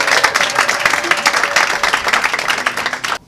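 Loud concert crowd in Douala, Cameroon applauding the performer, dense clapping mixed with cheering voices that holds steady, then stops abruptly at the end.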